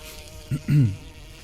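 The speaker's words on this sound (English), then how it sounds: "One of the bees from the apiary in the courtyard must have clung to you on your way in." A bee from a courtyard apiary buzzes close by in two short bursts, the second longer and louder, against a quiet indoor background.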